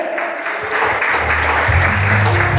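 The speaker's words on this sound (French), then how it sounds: "Chaudement, applaudissez-les." Warm applause from a church wedding vow-renewal audience, a dense steady patter of many hands, with low musical tones starting up underneath partway through.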